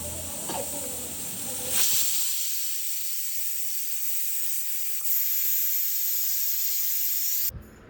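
Steady hissing sizzle of steam from a pressure cooker of peas pulao, loud and close, with brief louder bursts near two and five seconds before it cuts off at the end.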